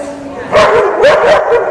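Several dogs during an obedience training session give short, loud yips and barks in a few quick bursts, close to the listener, with a trainer's voice nearby.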